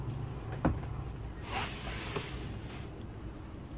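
The solid cabin door of a 1991 Sea Ray 270 Sundancer slides forward and hinges down, giving a sharp knock followed by sliding scrapes and softer bumps at close range.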